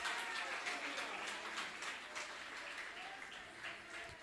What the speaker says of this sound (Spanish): Dele ese aplauso, pero con alabanza.